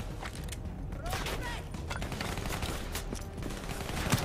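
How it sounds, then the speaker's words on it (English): Rapid gunfire from a shooter video game, Call of Duty: Black Ops 3, crackles in dense bursts for the whole stretch, loud and steady with a busy game soundscape underneath. "Finally, I can shoot stuff."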